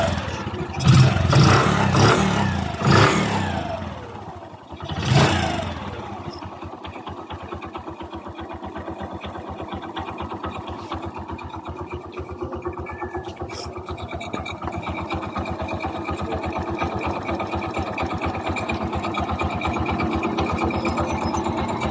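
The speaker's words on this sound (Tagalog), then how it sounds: "paandarin na natin para sa pinali ng ating makina." A Kawasaki Bajaj CT 100 motorcycle with a reassembled timing chain starts with a few loud cranking bursts, then settles into a steady, even idle that continues close and alone for the rest of the clip.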